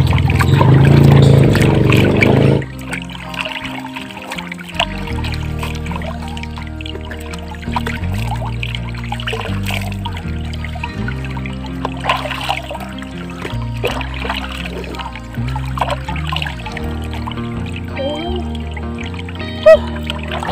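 Shallow river water in Batangas flows and trickles steadily over rocks, close and continuous, with splashing and a loud rushing burst at the start.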